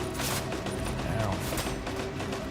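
Machine-gun fire in Death Stranding 2 rattles as dense, continuous bursts across the whole stretch, with a voice talking over the shooting.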